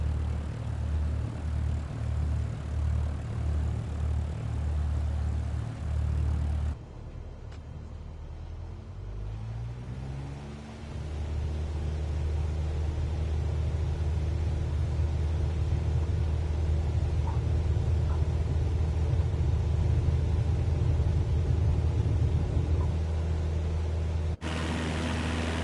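Aircraft engine roaring steadily in Microsoft Flight Simulator 2024 during takeoff, a loud continuous drone that shifts pitch as power comes up and holds through the climb, with no talk.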